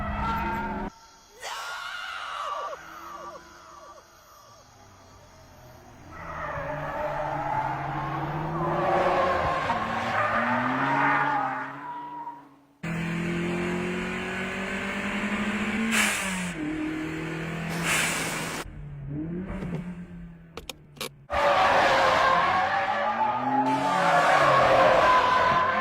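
Anime street-racing car tires skid and squeal under hard braking, layered with engine revving and rising whines across several bursts, loud and close, with brief shouted voices in between.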